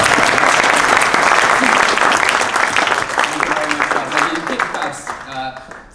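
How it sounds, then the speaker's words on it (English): A large crowd at a live stage magic show claps loudly for a volunteer, the applause thick at first, then thinning and fading as a voice begins speaking over the last claps. "Can the person who is telling the truth please step forward and we'll give him a massive round of applause."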